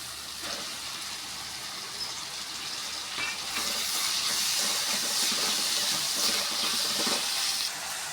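Onions sauté in a pan for rava kichadi, producing a continuous close sizzle and hiss that grows a little louder partway through, with faint stirring beneath.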